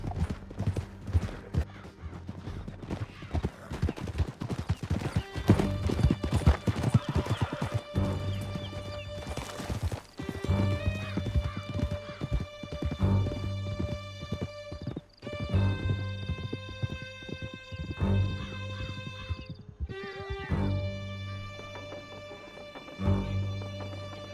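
Horses gallop in Red Dead Redemption 2 with fast, continuous hoof clatter and occasional neighs, loud and close, set against a swelling game music score with sustained tones.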